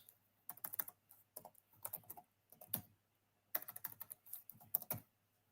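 Typing on a computer keyboard, close and fairly quiet, in short bursts of rapid key taps separated by brief pauses, with no talking.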